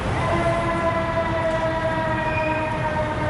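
A siren or train horn sounding nearby in a park, a sustained steady multi-tone blare holding at even loudness throughout.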